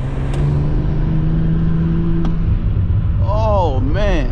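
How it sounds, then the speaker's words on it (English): Cadillac CT4-V Blackwing engine rumbling steadily up close while driving, with a sustained low drone that shifts in pitch near the end as the revs rise and fall, under a person's voice. "Oof, you guys hear that engine?"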